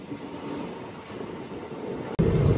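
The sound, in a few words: Andaman Express train running near Gudur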